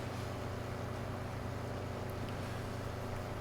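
A tractor pulling a seeder in a farming video game gives off a steady, low engine drone with constant broadband rumble and no break, heard alone at low volume.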